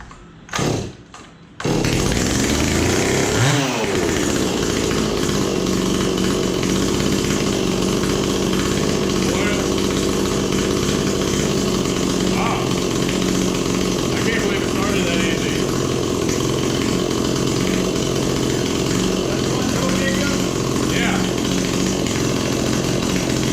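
A rebuilt Stihl MS260 chainsaw with new fuel lines and filter starts after a couple of short pulls, then runs loud and steady at close range, holding a rough two-stroke roar throughout.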